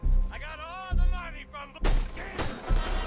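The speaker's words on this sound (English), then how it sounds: "I'm shooting the guy!" Gunshots ring out in the video game Red Dead Redemption II, several loud booming blasts spaced about a second apart, with a spoken voice heard between them.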